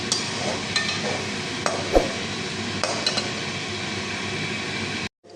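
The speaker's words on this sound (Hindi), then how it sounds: "प्याज मैंने डाल दिया है। अब मैं इनको फ्राई करूँगी।" Chopped onions frying in oil in a pan for potato pulao, a continuous hiss broken by occasional stirring clinks and spoon scrapes, ending abruptly.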